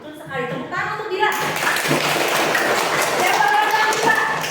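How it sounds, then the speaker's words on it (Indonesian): Pupils in a primary school classroom clap for a classmate, a steady, fairly loud patter of many hands over about four seconds, with voices underneath. "Tepuk tangan untuk Dila."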